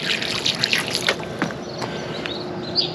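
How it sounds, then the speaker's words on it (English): Water poured onto a carved stone from a miniature stone village trickles along a carved channel, a soft, continuous dribble with scattered small drips, close and fairly quiet throughout. "I wonder if I start pouring here, where it goes."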